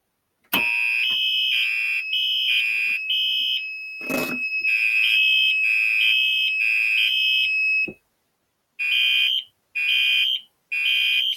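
A fire alarm panel sounds loud pulsing electronic tones in a steady repeating pattern, with a sharp click partway through, then a brief gap before three more short bursts.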